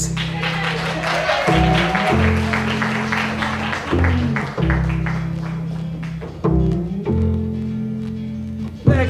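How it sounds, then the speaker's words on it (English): A comedy-club audience claps for a stand-up comedian being introduced, a continuous wash of applause running under loud walk-on music with a steady bass beat. "How about a big round of applause for Joe Llorens?"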